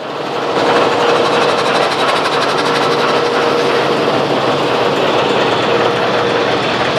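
The engine of an old Indian train stands at a station during a ten-minute stop, a loud steady rumbling drone with a constant hum and faint rhythmic clatter, heard up close without talk.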